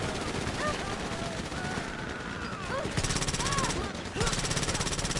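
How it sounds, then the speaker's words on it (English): Rapid automatic gunfire in GTA Online rattles in dense bursts throughout, with sustained machine-gun volleys and short pauses, while a player's voice talks over the shooting. "Where am I being shot from?"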